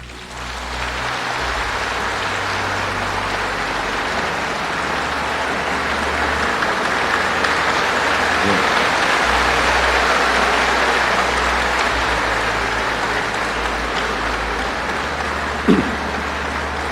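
Congressmen applauding during a presidential address in the Philippine Congress, a steady broad wash of clapping that holds for the whole stretch, fairly loud and even, with a sparse hall feel and no talk over it.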